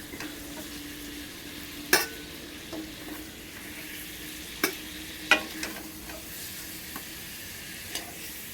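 Sweet-sour-spicy mango fritters sizzle steadily in hot oil after the gas is turned off, while a utensil lifts them out with a handful of sharp metallic clinks and scrapes, close and clear with no talking.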